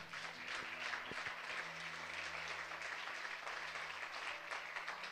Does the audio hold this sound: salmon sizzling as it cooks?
no